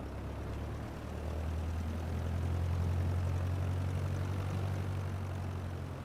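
A propeller airplane engine in Flight Simulator 2024 drones steadily at a low pitch, a constant hum that swells slightly after the first second and holds level with no talking.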